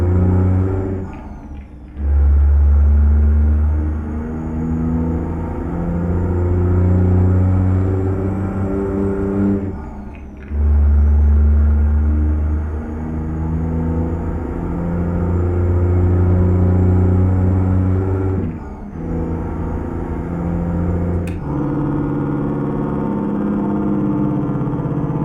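A heavy truck engine in a video game, a CAT C-15 in a Peterbilt 389, rumbles loudly, revving up through several gear changes with brief dips in power between each shift.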